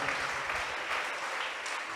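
Church congregation applauding in praise during a sermon, a steady wash of clapping that holds evenly for the full two seconds with no voices above it.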